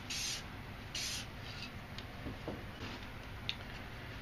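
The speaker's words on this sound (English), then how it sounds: "I'm going to spray some clear spray paint right here" Clear aerosol spray paint gives two short, faint hisses about a second apart, followed by quiet rubbing and light ticking.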